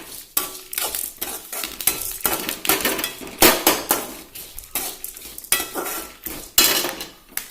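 A spoon scrapes and clinks repeatedly against a pan while lentils fry with garlic and curry leaves for a chammanthi, the close metallic strokes coming in an uneven rhythm.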